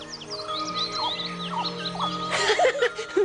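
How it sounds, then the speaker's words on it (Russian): Cartoon birds chirp and tweet in quick, bright bursts, with a fuller flurry of calls near the end over a low steady hum, in the 1995 animated Lion King. "Эти птицы такие проказники, мне защекотали."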